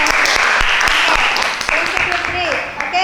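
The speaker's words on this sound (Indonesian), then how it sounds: "Give applause to the group 3." Brisk, close applause from a classroom of students clapping for a presenting group, loud at first and tapering off, with a voice speaking over it.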